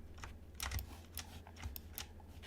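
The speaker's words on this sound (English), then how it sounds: "start using the key K on the keyboard" Computer keyboard keys clatter in a quick, irregular series of soft clicks while working in Blender, close but faint, with no voice.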